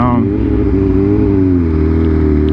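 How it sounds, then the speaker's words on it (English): A loud BMW S1000RR motorcycle exhaust rumbling steadily up close, with a rising rev at the start and a deep, throaty drone after. "I know you hear that exhaust"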